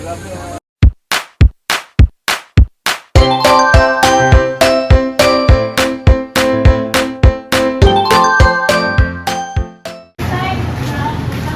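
A doorbell rings loudly and close, sounding a repeated chiming melody of bright ding tones, first as separate strikes and then as overlapping phrases, before it stops.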